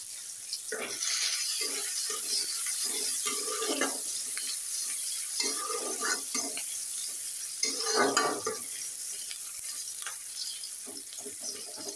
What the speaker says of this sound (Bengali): পেঁয়াজ রসুনটা ভাজা হতে থাকে।